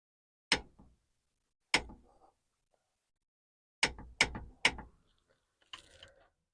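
A torque wrench tightens the rear differential drain plug on a Ram 1500, giving sharp isolated ratchet clicks, then a quick run of three, with quiet gaps between.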